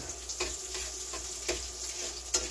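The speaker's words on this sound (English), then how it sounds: "And then saute these up good." Steady, close sizzling of yucca flower pods sautéing in a pan, with a few soft clicks and scrapes of stirring.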